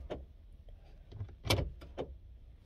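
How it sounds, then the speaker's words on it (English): Someone locks a door indoors: a few short, sharp mechanical clicks and clacks, with the loudest snap in the middle and a softer one just after it, set against a quiet background. "locked my door"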